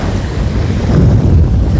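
Sea waves wash steadily onto Chornomorka beach on an open shore with no breakwaters, a continuous loud rushing surf mixed with wind buffeting the microphone, with no talking.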